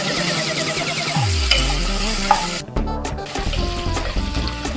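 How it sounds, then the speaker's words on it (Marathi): Onion and green chillies cooking in a pan for a Maharashtrian wild-vegetable dish, a continuous loud sizzle and stirring mixed with running water and clattering kitchen noise, fairly close and busy throughout. "बघा इथे आता आपला कांदा शिजत आला आहे"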